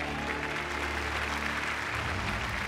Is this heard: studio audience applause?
yes